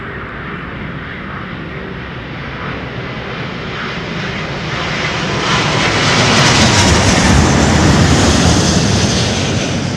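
A fixed-wing airplane landing in a gusty crosswind at London Heathrow: loud, steady engine roar that swells toward the end, heard alone without talk.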